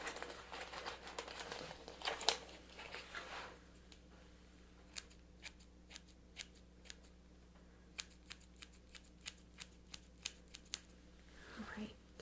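Up-close snipping of scissors trimming hair during a binaural haircut, a string of small crisp clicks spaced every second or so, preceded by rustling and soft handling noise.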